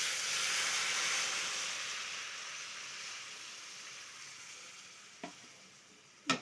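Curry with vegetables sizzles loudly in a pan just after broth is added. The steady close hiss slowly fades, and a couple of sharp utensil knocks come near the end.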